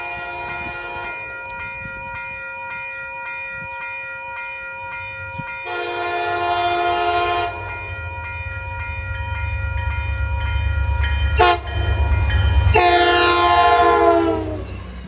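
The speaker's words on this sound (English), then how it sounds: "an outbound commuter train enters the block" An outbound commuter train in northern Massachusetts sounds a sustained horn, then a short, sharp blast and a final long blast, while its deep rumble grows louder as it passes close by.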